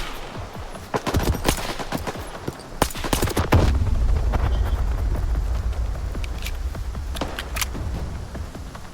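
Incoming gunfire in STALKER 2, a run of sharp, loud shots and bursts close by, followed by a rumbling low boom and scattered further shots trailing off.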